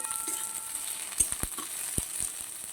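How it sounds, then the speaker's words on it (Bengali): Green chillies frying with kharkol leaves in a pan give a soft, steady sizzle with a few sharp pops and crackles scattered through it, heard up close with no talking. "কাঁচা লঙ্কাও এর সাথে ভেজে নেব।"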